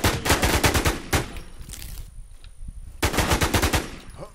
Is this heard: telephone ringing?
no